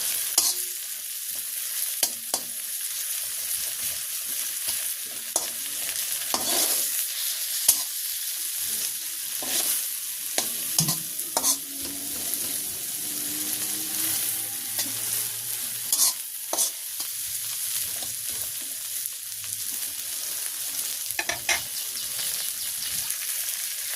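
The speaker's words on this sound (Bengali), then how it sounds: "দিয়ে দিচ্ছি তেল, পেঁয়াজটা নরম করার জন্য দিচ্ছি একটু লবণ আর দিচ্ছি একটু হলুদ।" Onion frying in oil with salt and turmeric in a village kitchen gives a constant loud sizzle, broken by repeated scrapes and clinks of stirring with the occasional small pop.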